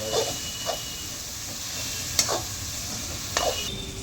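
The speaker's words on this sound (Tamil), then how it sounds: "பொன்னிறமாக வர்ற வரை வதக்கணும்." Food frying in a pan for chicken gravy, a constant hiss of sizzling oil broken by a few brief spatula scrapes, close and steady with no voices.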